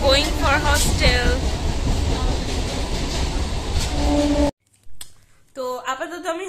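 Onboard a moving train in Kolkata, a loud continuous rumble and rattle of the carriage fills the first part, with voices talking over it, before an abrupt cut to quieter speech.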